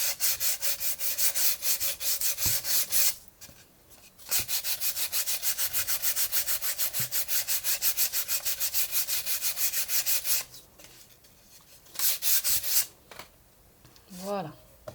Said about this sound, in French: le ponçage est important